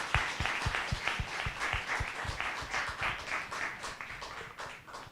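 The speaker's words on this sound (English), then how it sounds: "give a round of applause to all the participants" Audience applause for the participants of a business competition: steady, moderately distant clapping from a crowd with a few sharper claps up front, holding level throughout.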